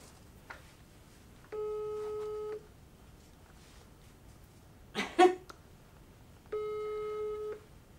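Two long, steady telephone ringback tones sound for an unanswered call, each about a second, separated by quiet with a brief noise in between, fairly faint.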